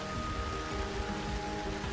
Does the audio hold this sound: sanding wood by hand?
no